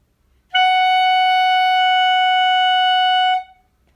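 One sustained high clarinet tone rings out for about three seconds, bright and steady, then stops cleanly.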